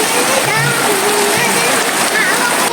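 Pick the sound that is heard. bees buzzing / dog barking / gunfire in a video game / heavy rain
heavy rain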